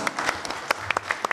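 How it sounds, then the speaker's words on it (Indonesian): Guests at a Ramadan iftar gathering in a hotel convention hall give a short burst of applause. The claps are distinct, close and fairly loud, coming in an uneven patter from a modest crowd. "Tepuk tangan buat beliau-beliau."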